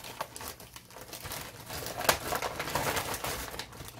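Close by, a plastic zipper bag of aquarium salt for a saltwater tank is handled. It gives soft, irregular crinkles and rustles, with one sharper crackle midway.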